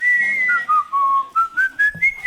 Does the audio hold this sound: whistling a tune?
yes